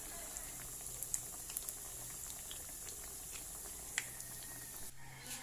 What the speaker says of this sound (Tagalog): Kailangan siya ay naka-deep fry para pantay-pantay ang kanyang pagluto.